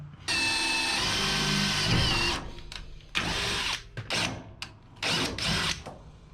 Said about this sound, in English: so we can drill and tap to that